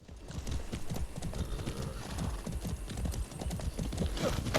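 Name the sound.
horse galloping in video game Far Cry 6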